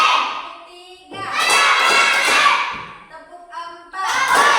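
A classroom of children claps and shouts together in response to a teacher's counted clapping routine, loud bursts of group claps and cheers separated by short pauses, with the teacher's voice calling between them.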